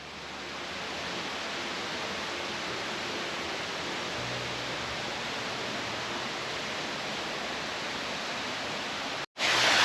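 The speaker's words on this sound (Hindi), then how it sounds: "नेचर की इतनी प्यारी साउंड और ऊपर से इतना सुंदर वाटरफॉल" A waterfall in Ubud, Bali pours in a steady, dense rush of water that stays loud and even throughout, with no voices, before cutting off abruptly near the end.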